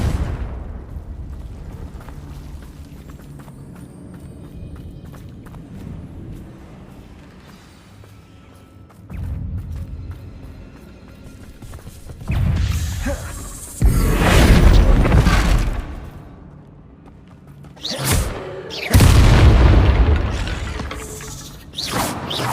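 Confringo blasting spells explode in Hogwarts Legacy, with a low boom followed by several heavy, loud, rumbling blasts in irregular succession over a quieter mechanical background.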